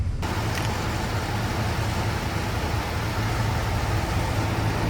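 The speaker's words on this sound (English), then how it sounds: "Our first main voyage with our dually." A dually pickup truck drives along a road, heard as a loud, steady engine and road rumble with tyre noise and no change for the whole stretch, and no one talks.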